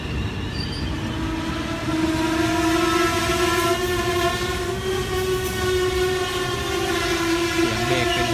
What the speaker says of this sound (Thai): เข้าจอดที่สถานีรถไฟบ้านโป่ง